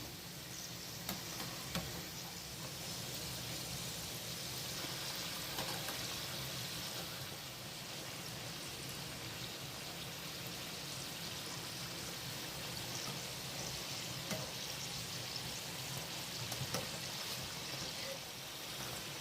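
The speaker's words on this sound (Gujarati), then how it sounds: "આવી રીતના બ્રાઉન થાય ત્યાં સુધી આપણે સમોસા તળવા દેવાના રહેશે." A steady, soft sizzle and bubbling of samosas deep frying in hot oil, continuous and fairly quiet throughout.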